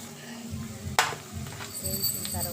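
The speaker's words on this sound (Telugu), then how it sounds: "అది మాడిపోకుండా పోపు లైట్గా వేయించిన" Chana dal tempering lightly in oil for a coconut and raw mango chutney, a low sizzle with a sharp metallic clink of a utensil against the pan and faint stirring, alongside some talking.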